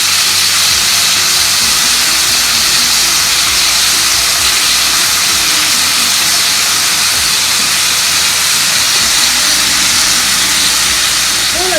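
Dried red chilies, cut at a slant, dropped into hot oil for a Kerala prawn roast, giving a loud, steady, close hissing sizzle that holds evenly throughout without pause.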